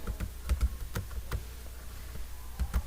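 Rapid typing on a computer keyboard while entering an Excel formula, irregular clusters of close key clicks with brief pauses and no speech.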